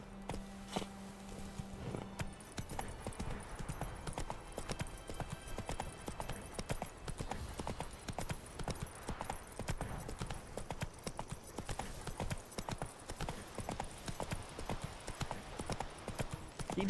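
Horse hooves galloping in The Witcher 3 video game, a steady rapid clip-clop rhythm running throughout with a brief low hum at the start and game ambience underneath.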